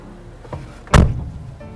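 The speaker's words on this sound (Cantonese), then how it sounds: "俾大家聽下閂門嘅聲，希望錄到啊！" A single solid thunk of a more than forty-year-old Mercedes-Benz W123 200 door shutting, heavy and close, with a softer click just before it.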